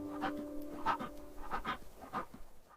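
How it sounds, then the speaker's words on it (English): A cheetah pants hard after a sprint, rhythmic rasping breaths repeating at a steady quick pace, close and moderately loud, with a faint steady hum underneath. "After a sprint like that, the cheetah needs time to catch its breath"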